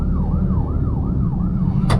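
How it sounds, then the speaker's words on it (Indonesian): An ambulance siren wails in a steady up-and-down cycle, loud and close, over road and engine rumble while riding in traffic, ending with a brief sharp noise burst. "ada ambulans mau lewat"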